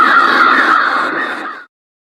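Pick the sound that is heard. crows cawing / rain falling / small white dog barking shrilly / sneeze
crows cawing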